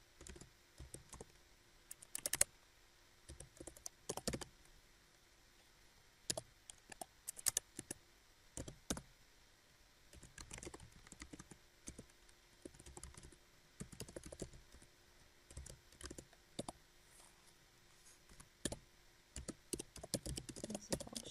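Quiet clicking of keys on a computer keyboard as code is typed, arriving in irregular bursts of rapid taps separated by short pauses, close and soft with no talking.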